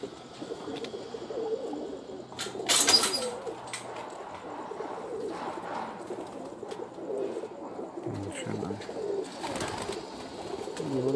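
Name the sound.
pigeon cooing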